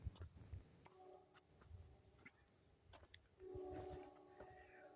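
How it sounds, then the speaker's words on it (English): A distant train, freight or passenger, rumbles past old overgrown farmland, faint and low with a brief whistle-like tone partway through. "That's the train going by there."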